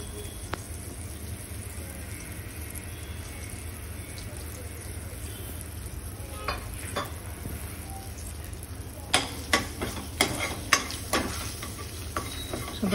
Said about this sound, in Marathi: आपण जी कुटून घेतलेली चटणी आहे तीळ आणि लसणाची ती या तेलात परतून घ्यायची आहे